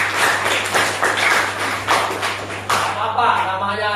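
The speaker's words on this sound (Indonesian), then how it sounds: "Tepuk tangan untuk kelompok 1." Students clap together for a group in a school classroom lesson, a few loud bursts of hand claps in uneven rhythm with voices mixed in; the clapping fades out near the end as talk takes over.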